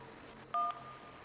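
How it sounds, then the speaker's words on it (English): A Skype call notification chimes once, a short pair of faint electronic tones over a quiet background. "sorry about the Skype noise"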